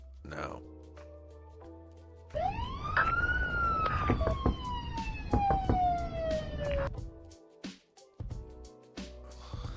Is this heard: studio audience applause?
no